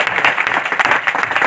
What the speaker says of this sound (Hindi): आइए एक बार और प्रभु के तालियां बजाएं